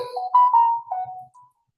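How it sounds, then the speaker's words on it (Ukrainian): A phone notification for an incoming message plays a short, bright electronic melody of a few clear tones, loud and close, then stops into silence. "Зараз прийде повідомлення."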